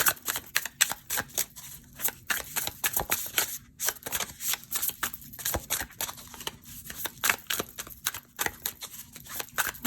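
Tarot cards are shuffled by hand, a rapid uneven series of crisp riffling flicks and soft slaps, close and clear with no talking.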